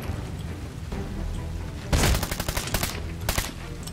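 Machine gun fire from the Medal of Honor Warfighter video game rips out in a loud, dense burst of rapid shots about halfway through, with a few more bursts after it over a steady, rumbling battle din.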